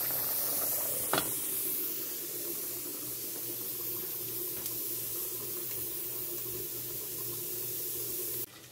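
Garlic frying in a pan as seasoning for beans, with a steady soft hiss and sizzle running throughout at moderate level, plus a brief clink near the start.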